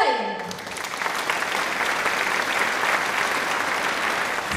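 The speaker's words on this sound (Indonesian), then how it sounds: "Mari kita berikan tepuk tangan yang paling meriah untuk pembicara kita hari ini" A seminar audience breaks into sustained, loud, even applause welcoming a speaker, steady for several seconds after a brief opening tone, with no talk over it.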